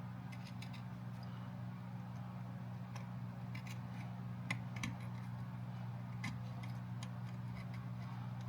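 Scissors snip material in a series of small sharp cuts while a Jaguar MKII is being reassembled, sounding close but quiet over a low steady hum.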